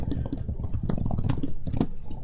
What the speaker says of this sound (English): I don't know why I can't type.